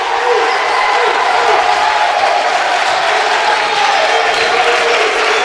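A college men's basketball crowd in a gym applauds and cheers steadily, a dense, sustained wash of clapping and voices with no breaks.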